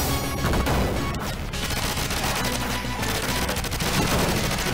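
Dense, continuous gunfire from an arcade shooting video game, loud and busy throughout with layered crashes and rapid shots and no pauses.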